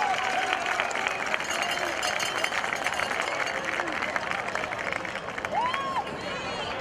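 A crowd at a high school varsity football senior night applauds the senior players, a dense, sustained wash of clapping and cheering that holds steady throughout, with one brief whistle-like tone near the end.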